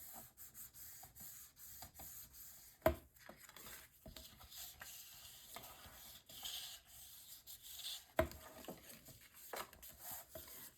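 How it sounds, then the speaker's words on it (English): Paper flap on a mini album page being burnished down, soft close rubbing and scraping strokes with two sharp taps, quiet and intermittent, no talking. "and then burnishing this down."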